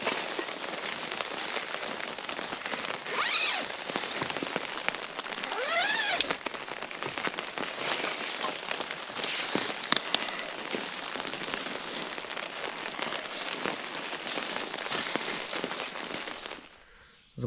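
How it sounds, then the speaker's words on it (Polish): Spring rain patters on a poncho tent, a dense crackle of drops striking the fabric close overhead for many seconds, with occasional louder taps and no talk. "padało przez pół godziny taki raczej wiosenny deszczyk, ale też nie najmniejszy"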